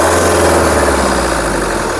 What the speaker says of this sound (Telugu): ఇంజన్ యొక్క నాయిస్ సైలెంట్గా అయితే ఉంది.